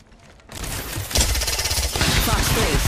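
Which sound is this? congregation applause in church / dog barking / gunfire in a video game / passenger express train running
gunfire in a video game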